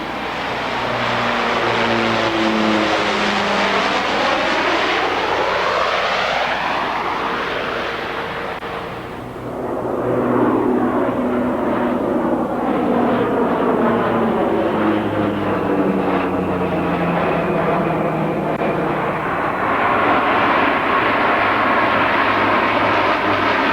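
A Casa aircraft flies past at the 1989 Paris air show, its loud propeller engine drone rising and falling in pitch as it passes, a sustained roar that dips briefly midway before swelling again.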